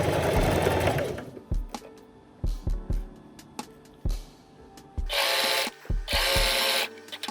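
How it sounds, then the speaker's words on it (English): A sewing machine runs in short bursts as it stitches a seam of handmade clothing, starting and stopping with quiet gaps and small clicks between runs, then two longer, steadier runs near the end. "Once the needle is in the lifted up position and your sewing foot is also lifted, you basically just want to start the stitch."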